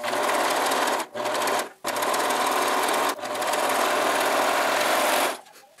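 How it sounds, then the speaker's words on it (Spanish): An overlock sewing machine runs at speed, trimming excess fabric from a Baby Jesus christening gown, a loud, dense whirring buzz in long continuous bursts broken by two brief pauses before stopping. "puedes llevarlo a la máquina de over y vamos a pasar un over y a recortar de una vez todo este sobrante de tela"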